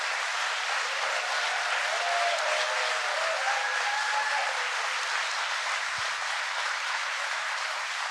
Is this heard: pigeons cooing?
no